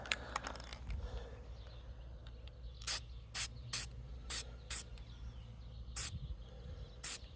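Dry lubricant sprayed from an aerosol can, about eight short, sharp hissing bursts in an uneven rhythm, close and fairly loud over a quiet background hum, with no talking.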